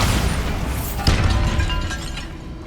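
A Bombarda spell explosion in Hogwarts Legacy, set in a tomb, bursts as one loud, close boom with a sharp crack and rumble, then rolls off into a fading debris tail.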